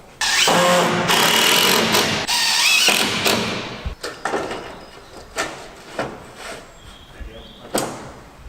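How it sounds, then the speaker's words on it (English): Power tools run while an extra timber batten goes in for roof flashing on a solar panel installation, opening with a loud, sustained whir and moving into a series of close thumps and knocks. "for a little bit of support it needs an extra batten in here. So I'm just going to install that now."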